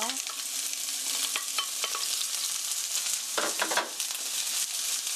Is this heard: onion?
yes